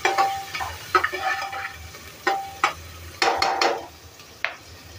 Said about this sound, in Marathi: ह्याच्यामध्ये थोडीशी कोथिंबीर टाकते मी फोडणीमध्ये।